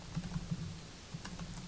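Rapid typing on a computer keyboard during a zoning board of appeals meeting, soft close clicks in quick bursts over a low room hum.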